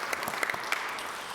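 A room of Rotary members applauding, with dense, continuous clapping and a few sharper individual claps standing out, heard close and moderately loud throughout.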